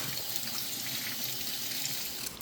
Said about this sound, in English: I'm gonna go ahead and wash these and get them cubed up